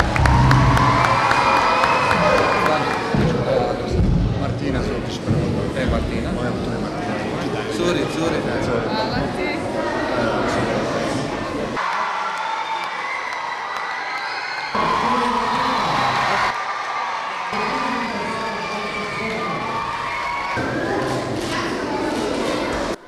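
Audience at a school sports award ceremony applauding and cheering loudly, with whoops and shouts from a large crowd mixed with chatter, the noise dipping briefly and then rising again.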